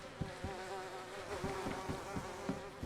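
Bees in a video game base, a close continuous droning buzz with a wavering pitch and faint soft taps underneath.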